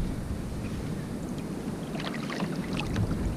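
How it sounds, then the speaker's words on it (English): A kayak is paddled slowly on the Sonoma Coast sea, soft water splashes from the strokes over steady wind and wave rumble. "I'm going to be paddling nice and slow"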